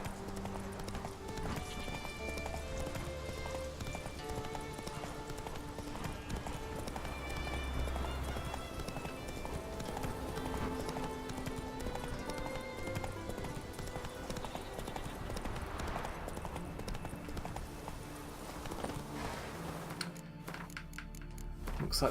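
Roach, the horse in The Witcher 3, gallops on auto run with steady rhythmic hoof clip-clops that carry on throughout over game ambience and music, the sound cutting off near the end.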